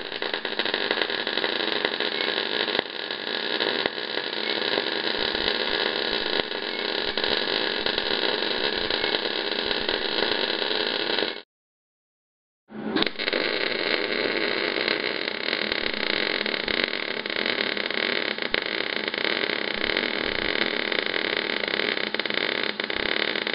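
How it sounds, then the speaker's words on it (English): A Hobart Handler 140 MIG welder runs a lap joint with a steady, loud crackling buzz that holds for about eleven seconds, stops briefly, then resumes for a second continuous bead. "We're going to do a lap joint with the Hobart"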